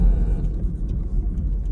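A car engine starts in freezing sub-zero cold, giving a brief, close, low rumbling burst that settles into a steady running note.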